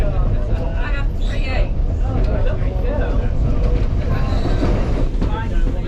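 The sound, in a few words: Ffestiniog Railway train running from Blaenau Ffestiniog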